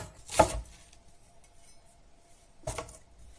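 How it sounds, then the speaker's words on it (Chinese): A knife slicing a length of scallion on a cutting board gives two sharp, isolated chops about two seconds apart, with quiet room noise between them and no talking. "1段大葱切片"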